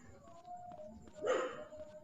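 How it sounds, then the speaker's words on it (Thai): A dog barks once, fairly close, as a short burst cutting over a faint steady hum, with quieter room noise before and after. "เสียมาเห่าครับผู้ชม ขออภัยด้วย เสียมาเห่า"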